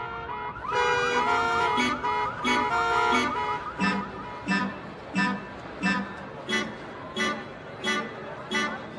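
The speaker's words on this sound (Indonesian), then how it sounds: "Secara tiba-tiba alarm mobil pun berbunyi seperti ini." A car alarm blares in a repeating pattern, first a rapid warbling tone, then loud regular honking bursts in steady rhythm, close and prominent.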